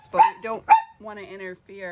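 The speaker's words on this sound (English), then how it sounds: "That was my dog." A dog barks twice sharply in quick succession, close by, before a person resumes talking while making a fabric-covered cereal box.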